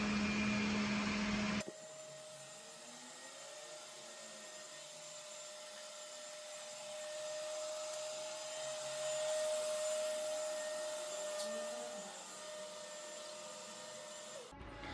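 An ILIFE A20 robotic vacuum cleaner runs indoors, a steady whirring motor hum with a constant tonal whine that swells slightly as it moves around the house, preceded by a brief louder burst at the start.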